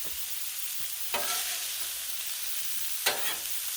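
Shrimp and garlic sizzle on a hot Blackstone griddle, a steady close hiss with a couple of brief sharper flares as food is moved or stirred.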